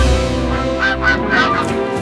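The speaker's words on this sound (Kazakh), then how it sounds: "Міне балалар, құстар жылы мекенге қайтып келді" Cartoon geese returning in spring, honking in a short series of four or five nasal calls over a sustained musical background, loud and close.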